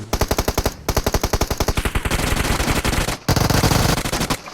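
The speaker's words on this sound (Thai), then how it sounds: "ยิงยิงยิงยิงหลังต้นไม้นะยิง" Automatic gunfire in the mobile battle game PUBG Mobile, loud rapid bursts of evenly spaced shots with brief pauses, then a denser stretch of continuous firing.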